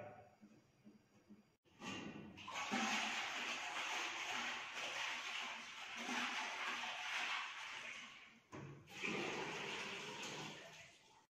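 Water pours into the top container of a ceramic candle water filter in a steady, close splashing stream with a brief pause before a final pour.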